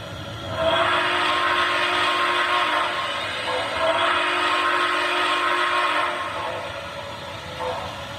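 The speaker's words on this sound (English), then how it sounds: "Was not expecting that whistle. That sounds great." An MTH Railking SP Daylight GS-2 model train whistle blows in two long sustained blasts with a short pause between, loud and close, over a low running hum.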